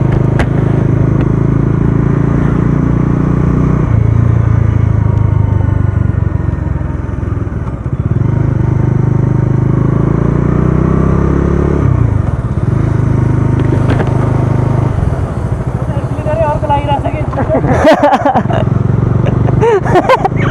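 Motorcycle ride on X-pulse and Domi bikes toward the Kirtipur suspension bridge, a steady close engine and wind drone throughout with brief clatter and scraping bursts near the end.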